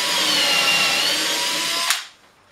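A power drill bores a dowel hole into a wooden board, whining loud and steady for about two seconds before a quick thunk as the bit breaks through and the motor cuts off.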